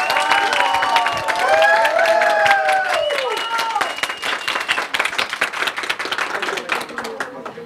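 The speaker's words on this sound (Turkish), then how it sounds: "Alkışlarınıza Yıldız Karatay'ı buraya davet ediyorum" An audience at an office award ceremony applauds steadily, a dense, close wash of clapping that gradually thins, with a voice speaking over the start.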